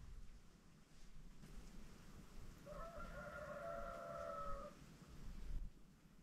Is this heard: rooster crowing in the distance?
yes